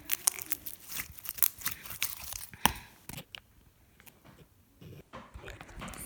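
Homemade DIY slime being stretched close up gives off irregular crunchy crackles and pops, loud at first and then sparser and quieter.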